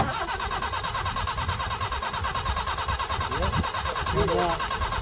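A Subaru Brat engine cranking over and spinning steadily on the starter, with a continuous loud mechanical churn throughout and people talking over it.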